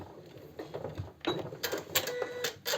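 Sewing machine stitching a fabric sash belt with contrasting thread, a quiet, close mechanical whir in short bursts that start and stop, with brief rattling gaps between runs.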